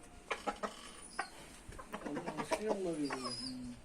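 An Asil rooster calls to the hens of its flock in a run of short, clucking calls, fairly close, with a voice talking over parts of it.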